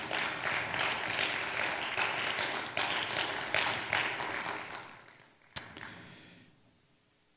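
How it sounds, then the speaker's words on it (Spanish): A church congregation applauds during a Spanish-language sermon, dense sustained clapping from many hands filling the room, swelling briefly and then fading out, followed by a sharp knock and near silence. "Un aplauso al que vive para siempre."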